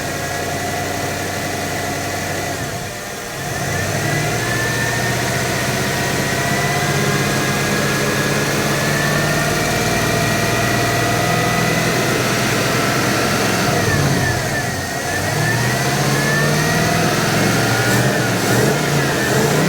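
A Magnum 5.9L V8 with a Holley carburetor runs loud and close, holding a rough steady idle with a couple of rising revs and dips, a continuous engine roar with no voices.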